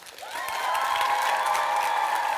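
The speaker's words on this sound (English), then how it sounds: "Give yourselves a massive round of applause" A live theatre audience at a musical stream show breaks into applause, the clapping swelling quickly and holding at an even, full level for a couple of seconds.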